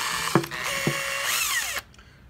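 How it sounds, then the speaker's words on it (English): A power drill bores out a rivet on top of a boat's anchor light head, giving two brief bursts and then a longer rising whine that stops abruptly, loud and close with no talking. "I drilled out the rivet on top of the light head."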